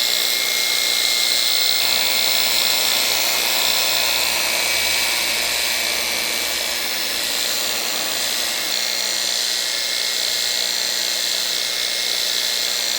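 A polishing machine spinning up to roughly 2,800 to 3,000 RPM while buffing an aluminum baseball bat, a loud, steady high-pitched whine and whir that continues without a break.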